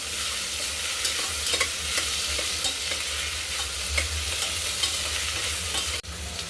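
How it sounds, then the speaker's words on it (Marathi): Chopped brinjal and tomato being stirred and sautéed in a pan, with a steady loud sizzle of frying and repeated scraping strokes of a spoon, close up and with no talking. "आता याच्यामध्ये घालू कट केलेलं वांग आणि टोमॅटो मऊ होईपर्यंत आता आपल्याला परतून घ्यायचे"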